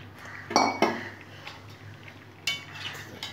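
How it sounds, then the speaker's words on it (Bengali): Pre-fried papaya and potato pieces tipped into a pot of simmering chicken curry, giving a few sharp metallic clinks and clatters of a utensil against the pot over a low background hum, no voices. "এখন পেঁপে আলু যে আমি আগের থেকে ভেজে রেখেছি সেগুলো দিয়ে দেবো।"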